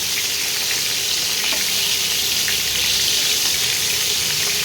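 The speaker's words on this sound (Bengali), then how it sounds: "প্রতিটা মাংসকে এভাবে ভেজে নিতে হবে।" Chunks of chicken meat frying in a pan for a green chicken dish, giving a steady, loud, broadband sizzle that continues evenly without pause and without talk.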